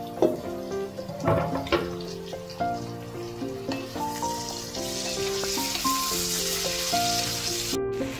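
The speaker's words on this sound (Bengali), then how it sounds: "তো এবার আমরা এখানে সবজিগুলো হালকা মতন সটে করে নিয়েছি।" Mixed vegetables and shredded cabbage sauté in a pan with a low continuous sizzle, while a bright tune plays over it. Nobody speaks.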